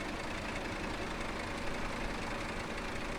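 A truck engine idles in the video game SnowRunner on the Flooded Foothills map, a steady, low, continuous rumble at an even level with no talk over it.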